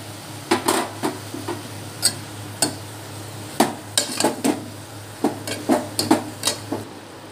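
A utensil stirs tomato pieces in a cooking pan, giving irregular close clinks and scrapes against the metal over a steady low hum, with faint sizzling underneath.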